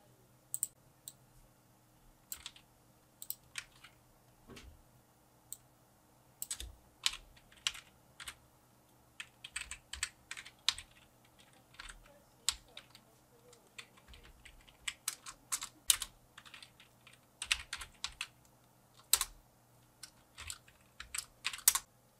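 Rapid typing on a computer keyboard while writing PHP and JavaScript code, soft irregular key clicks in uneven bursts throughout, close and fairly quiet with a faint steady hum beneath.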